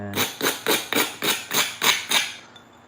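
A stone edge is beveled during flint knapping, with eight evenly spaced, sharp close strikes of a hammerstone on stone in a steady rhythm, each ringing briefly before fading into quiet.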